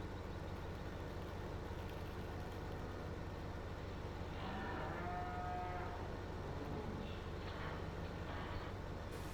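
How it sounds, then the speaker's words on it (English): Cows mooing from a barn in Farming Simulator 2015 on an Idaho, USA map: a distant low moo rises midway over a steady ambient rumble, with faint further calls after. "Clearly that building there is where the cows are. I can hear them."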